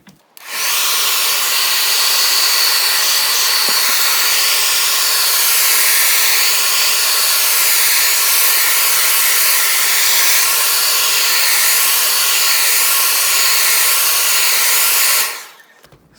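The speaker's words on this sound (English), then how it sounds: "So I'm going to get the hairdryer back on it." A hairdryer blows hot air onto an iPhone 11 during a battery replacement, a loud, steady whooshing roar that starts abruptly, holds for about fifteen seconds and then cuts off.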